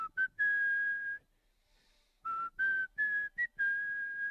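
A person whistles a tune in short, clear melodic phrases, broken by a pause near the middle, close and alone with no talking.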